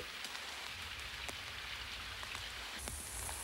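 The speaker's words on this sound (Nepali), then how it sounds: "यहाँ परेका असिना केरौका ठूला दाना जत्रा छन्।" Hail pelting down in a dense, steady patter, with sharper individual hits cracking through now and then; no voices.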